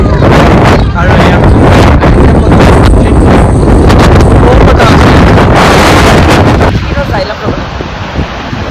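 Strong, gusty wind buffets the microphone in cold high-altitude mountain terrain near Manali, a loud continuous roar with rustling bursts that eases slightly near the end.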